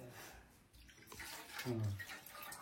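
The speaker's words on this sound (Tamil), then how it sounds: "டிஃபரெண்ட் சுடு தண்ணி வேற தராங்க கைக்கு." Hot water splashes and pours close by for washing hands, a soft, uneven running sound that grows louder partway through, with faint voices in the background.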